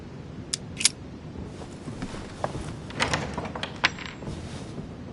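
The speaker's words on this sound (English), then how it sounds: "A metallic sound, like a key falling to the floor." A metal key drops to the floor in a video game, giving a few small, sharp metallic clinks scattered over a steady low background hum.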